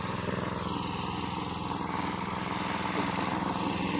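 A small engine runs steadily nearby, a loud continuous mechanical drone from a pesticide spraying machine with no pauses.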